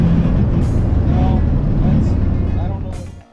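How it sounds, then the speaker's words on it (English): A 1950 Ford running on a test drive gives a loud, continuous low grinding drone as it slows down, steady throughout and trailing off at the very end, with no talk over it. "the car is making an extremely loud grinding noise on deceleration"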